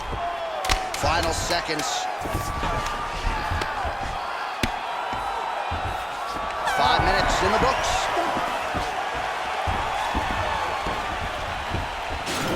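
Thudding ground-and-pound punches land in rapid, uneven strikes in the UFC 4 video game, under steady crowd noise and play-by-play commentary voices.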